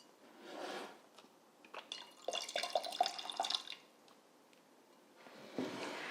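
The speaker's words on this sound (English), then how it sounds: "this way it is easier to dispense water while the pitcher is in the fridge. So like this." Water dispensed from the spigot of a ZeroWater 10-cup filter pitcher into a glass, a soft trickling pour with splashy drips in the middle, quiet and close, bracketed by faint handling sounds.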